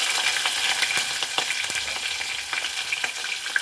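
Onions sizzling and crackling in a hot pan of drumstick sambar, a dense steady frying hiss with scattered pops, close and fairly loud.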